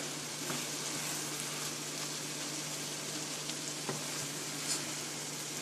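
Curry sizzles in a pot as it is mixed, with a steady frying hiss and a few soft scraping stirs that sound close and moderately quiet, and no one speaking.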